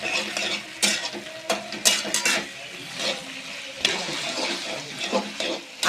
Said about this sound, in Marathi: आता हे तळलेले सोयाबीन आपण ह्यामध्ये घालून घ्यायचे